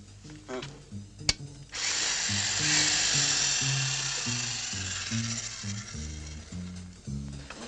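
A drill is switched on and runs with a loud, continuous buzzing whine for about six seconds, preceded by a sharp click and backed by rhythmic low music.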